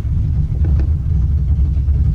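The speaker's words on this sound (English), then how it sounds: "We got this junior dragster up here in front of us" A junior dragster engine idles at a drag strip, a loud low-pitched rumble that holds steady throughout with a faint rhythmic pulse.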